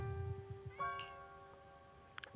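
A large cat meows in the video game Zenless Zone Zero, a drawn-out mid-pitched call alone over a low game hum, with a short higher chirp near the end.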